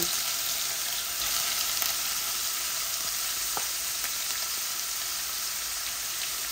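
Onion fries together with chicken in a pot, producing a constant, bright, hissing sizzle at an even level with a few faint clicks.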